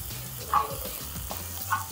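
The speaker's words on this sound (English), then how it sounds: "I also have some ginger and garlic finely chopped here as well, okay? And we're gonna be sauteing this really well." Finely chopped ginger and garlic sauté in a pan, making a soft, faint sizzle with light stirring and a couple of brief clinks.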